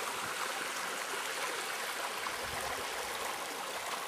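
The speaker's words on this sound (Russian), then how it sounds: "Вот это водичка с гор течет." A mountain stream runs in a steady, broad rushing wash of water, constant and fairly close, with no voices over it.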